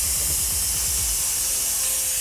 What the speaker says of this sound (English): there is the steam now coming out